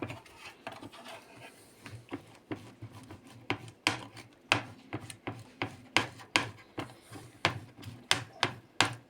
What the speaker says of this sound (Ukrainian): Сир натираємо на крупну терку.